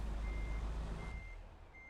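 A truck in Euro Truck Simulator 2 backs up, its reversing alarm sounding a few spaced single beeps over a low engine rumble that fades toward the end.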